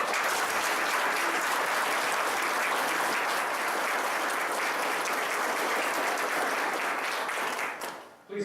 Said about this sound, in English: how about a round of applause for Airman First Class Barry Fortgate?